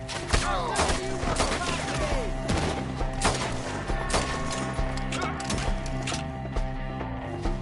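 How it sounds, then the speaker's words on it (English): Frequent gunshots crack through a Red Dead Redemption 2 shootout, with sharp, irregular reports and impacts close and loud over a musical score throughout. "Shoot the ones up there first!"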